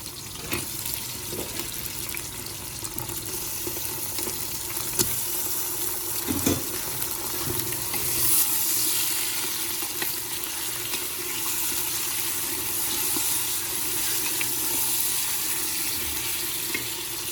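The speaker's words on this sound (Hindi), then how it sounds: "अब मैं इसके अंदर ये गोश्त डाल दूँगी।" Steady, loud sizzling and crackling of mutton frying with onions in a hot pan, with occasional clinks and stirring, continuing throughout without speech.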